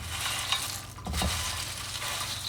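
Pretzels and roasted salted peanuts tossed together in a bowl, a continuous dry rustling and rattling with a brief burst of heavier clattering midway, close and moderately loud, with no speech.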